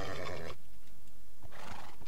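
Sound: horse neighing in the video game Minecraft

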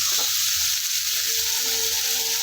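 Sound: bottle gourd frying and stirred in hot oil

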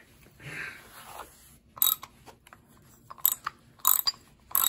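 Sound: ratchet wrench turning on Datsun 240Z thermostat housing

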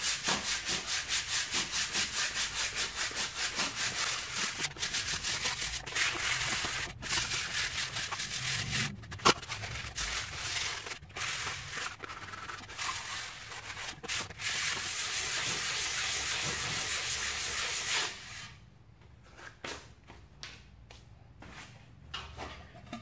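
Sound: sanding reclaimed wood for a sign

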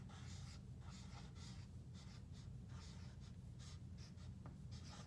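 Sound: writing by hand

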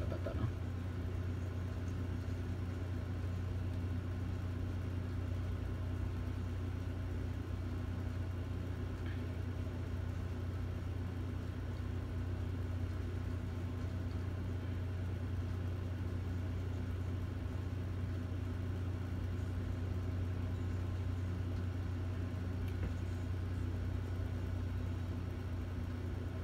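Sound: racing car engine on a lap in a Cars video game

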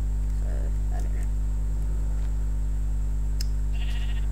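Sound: sheep bleating in Minecraft video game

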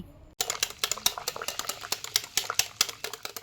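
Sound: mixing egg batter with vanilla essence in a bowl

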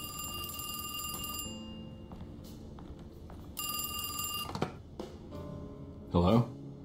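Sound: telephone ringing in the video game Alone in the Dark

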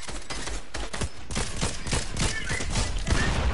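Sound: gunfire in the video game Fortnite

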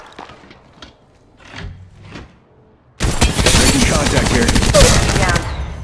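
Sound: gunfire in the video game Apex Legends Mobile

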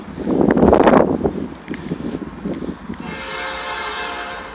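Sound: Canadian National 5723 freight train passing, horn

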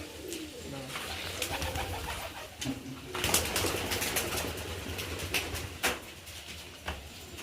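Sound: pigeons cooing

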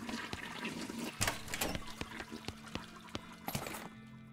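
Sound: toilet flush in the video game West of Loathing

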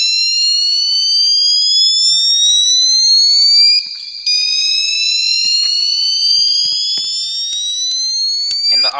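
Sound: high-pitch fire alarm tone in Roblox video game

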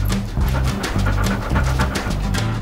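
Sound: dog panting and whimpering

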